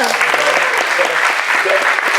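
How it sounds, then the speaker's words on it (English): A crowd claps together in a sustained, lively round of applause, with faint voices mixed into the clapping. "let's give them a round of applause too there"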